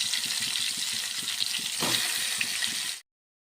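Shahjeera, fennel seeds and a small piece of bay leaf frying in oil in a pan, giving a steady close sizzle with light crackling that stops abruptly near the end.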